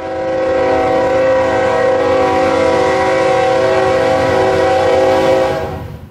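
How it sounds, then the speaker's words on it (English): A Burlington Northern Santa Fe freight train runs along the track near Wayzata on Lake Minnetonka, giving a loud, steady rumble with a sustained horn tone throughout that fades at the end. "Burlington Northern Santa Fe still run freights, and I put this in not for the train, but for the track."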